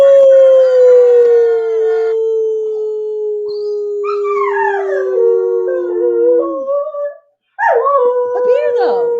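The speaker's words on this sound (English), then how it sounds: "Do we at least get a howl?" A dog howls in long, drawn-out, slowly falling tones, then gives a wavering, sliding howl and a final rising one after a short pause, all loud and close.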